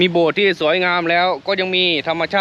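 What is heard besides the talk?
No everyday noises stand out.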